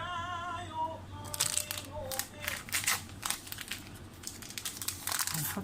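A plastic bag crinkles and rustles in quick, close bursts in a home kitchen while an Egyptian-style orange cake is being made, after a brief voice at the start.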